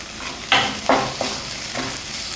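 Onions sautéing in a pan with slit green chillies and curry leaves for a potato curry, a steady sizzle broken by four or five scraping stirs, close and fairly loud, with no talking.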